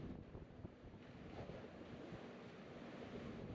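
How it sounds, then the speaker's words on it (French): Wind gusts and ocean waves wash continuously against the shore in a soft, even roar, heard faintly with buffeting wind noise on the microphone. "vous laisse avec le son du vent et des vagues"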